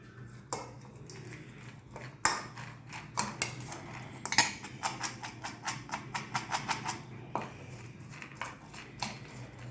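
Sprout salad with lemon juice being tossed and mixed in a bowl, a run of close clinks and scrapes of a spoon against the dish, with irregular taps that come faster in the second half.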